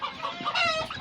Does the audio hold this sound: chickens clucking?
yes